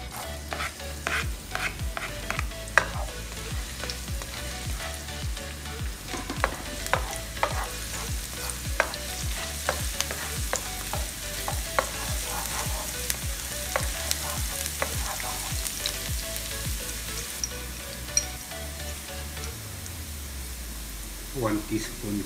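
Garlic frying in oil for a simple beef curry, with steady close sizzling broken by frequent clinks and scrapes of stirring throughout.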